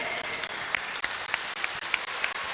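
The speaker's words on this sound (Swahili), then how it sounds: "Wasimame, mzee anasema msimame mpigiwe makofi." An audience at a political party meeting applauds the Kisii team, giving scattered, moderate clapping with a few sharper claps standing out in a brief burst.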